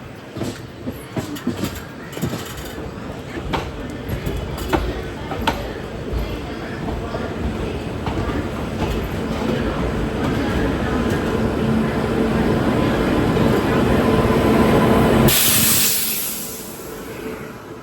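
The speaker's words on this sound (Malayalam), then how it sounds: "ഇവിടത്തേക്കൊരു ട്രെയിൻ വരികയാണ്." A New Delhi–Thiruvananthapuram Central express train pulls into Palakkad Junction station, its rumble and rhythmic wheel clatter building steadily louder and closer. A sudden bright hiss comes near the end, and the station crowd and voices stay in the background.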